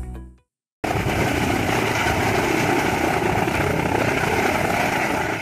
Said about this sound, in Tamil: ராணிப்பேட்டை அருகே திடீரென ஹெலிகாப்டர் தரையிறங்கியதால் பொதுமக்கள் ஆச்சரியமடைந்தனர்